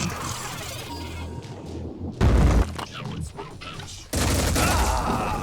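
Bursts of heavy automatic gunfire crack through a Phoenix Point firefight, two loud blasts standing out between quieter rattling, with a voice talking over the action.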